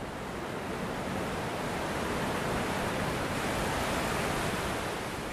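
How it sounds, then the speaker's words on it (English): Large ocean waves break along the shore at Whatipu beach on Auckland's wild west coast, near the mouth of the Manukau Harbour, making a steady, dense roar of surf that stays loud and unbroken throughout, with no voices. "The waves are still big by the time they reach the shore."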